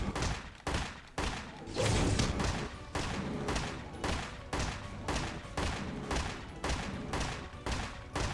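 Steady gunfire in the RWBY video game: a regular series of about a dozen sharp, punchy shots spaced roughly half a second apart over continuous battle noise, fairly loud and close, with no talk.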